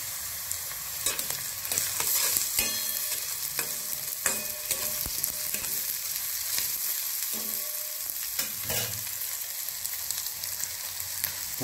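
Ginger garlic paste hitting hot oil in a black iron tawa, a close, steady crackling sizzle with occasional stirring scrapes throughout.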